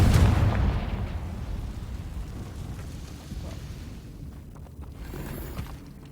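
A fiery Confringo spell blast in Hogwarts Legacy opens with a loud explosive burst, then trails into a rumbling, crackling roar that slowly fades.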